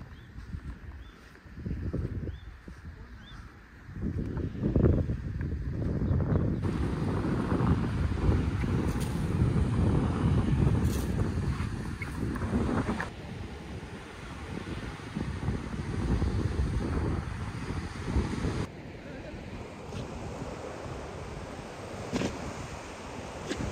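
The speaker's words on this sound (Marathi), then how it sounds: "मला गाज ऐकायला येते समुद्राची" Sea waves roar on an unexplored beach at Devgad, a broad steady wash of surf mixed with gusty wind buffeting the microphone, swelling and easing over the stretch without voices.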